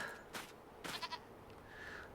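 Quiet, short goat bleats in the video game Farming Simulator 25, two or three in a row with faint background noise.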